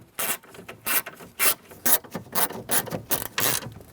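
A ratchet wrench snugs bolts down on a 1988-1999 GMC K1500 during an ignition starter switch replacement, giving about ten quick rasping clicking strokes in an uneven rhythm, close and alone.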